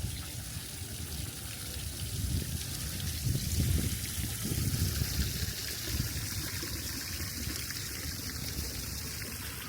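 Water trickles and splashes steadily at an outdoor hotel swimming pool at the Shangri-La Rasa Ria resort in Borneo, with a constant, moderately close wash and no talking.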